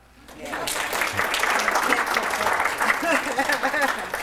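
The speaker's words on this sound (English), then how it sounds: "And everyone's got a clap now." Audience clapping during an adaptive exercise talk on multiple sclerosis, rising after a brief quiet start into steady dense applause from a room of people, moderately loud, with voices mingling underneath.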